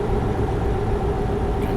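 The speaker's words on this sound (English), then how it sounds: "And the engine brake does work." In American Truck Simulator, a truck's engine brake produces a steady, dense low rumbling drone that holds constant throughout, with no talking.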